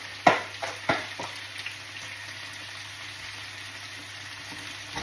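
Broccoli and cauliflower for chop suey stir-fry in a pan with a steady sizzle, broken early by a few sharp clatters of utensils against the pan, then settling into a continuous even frying hiss with no voices.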